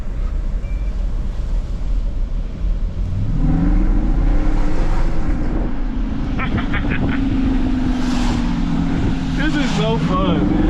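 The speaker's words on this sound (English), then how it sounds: "doing hard pulls like this in the SRT" A Hemi-powered Jeep SRT engine pulls hard in the rain, rising in a loud revving drone that climbs and falls through gear changes, with constant road and rain noise and someone talking over it.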